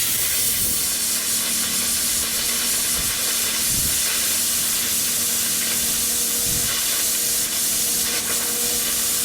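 A SIMDER SD4050 PRO plasma cutter slices through metal with a continuous loud hiss and rushing air sound, broken by faint crackles, with no voices.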